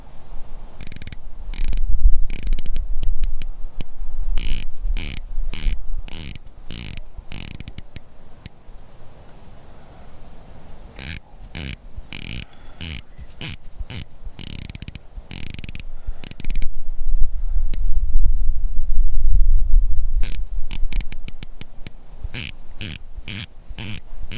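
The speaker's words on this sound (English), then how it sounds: "take a sound test of the bezel" The rotating bezel of a Celegin Draken S dive watch is turned in rapid runs of crisp, close ratcheting clicks. Brief pauses separate the runs.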